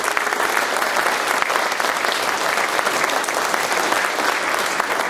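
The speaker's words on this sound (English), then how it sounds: "And applause to you." Loud, dense applause from a school concert audience at a middle school music event. It fills the whole stretch as a continuous wash of many hands clapping.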